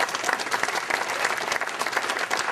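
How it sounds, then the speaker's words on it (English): An audience gives a round of applause for the team players at a club awards show, a steady dense patter of many hands clapping at moderate distance, with no talk over it. "a round of applause for the team players"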